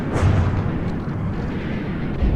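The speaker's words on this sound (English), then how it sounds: "Internal explosions. Central turret is disabled." Internal explosions aboard a warship in a naval battle video game, a dense continuous low rumbling roar with a heavy thump at the start and another near the end, loud and sustained.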